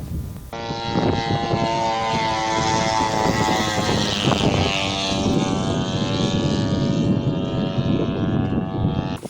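A Ukrainian Cobra military drone flies close by, its propeller engine producing a continuous loud, buzzing drone with a harmonic whine that stays steady for several seconds, heard on its own.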